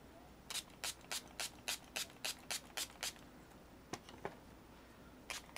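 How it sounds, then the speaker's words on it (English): A spray bottle mists water onto acrylic paints and brushes: a quick run of about ten short, evenly spaced bursts, a pause, then a few more squirts, fairly close and alone. "I'm spraying some water on my brushes."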